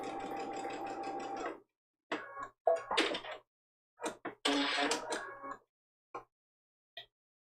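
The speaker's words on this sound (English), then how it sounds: "I'm going to take a couple stitches and do some back stitches and lock that seam" A sewing machine runs a quick burst of stitches, then stops, followed by scattered short stitch bursts, clicks and handling knocks, close and fairly quiet.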